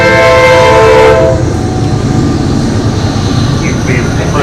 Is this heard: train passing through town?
yes